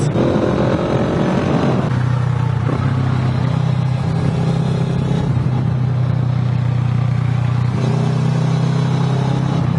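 Motorcycle engine runs high in the rev range while riding, a loud, close, steady drone whose pitch shifts with the throttle, against rushing wind noise.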